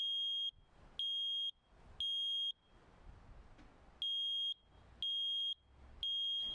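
Smoke alarm sounding in loud, piercing half-second beeps in a regular pattern, three beeps, a short pause, then three more, close and alone with faint room noise in the gaps.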